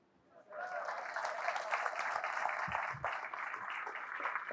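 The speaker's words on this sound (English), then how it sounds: "We get an extra applause" Steady crowd applause, fairly distant and quiet, starting abruptly and continuing as a dense even clatter of clapping.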